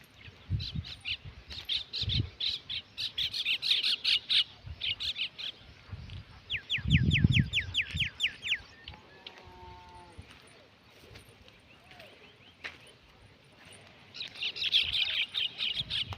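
Common mynas call in an open farm field with bursts of chirps and chattering notes, near and moderately loud, alongside low bleat-like sounds and people talking.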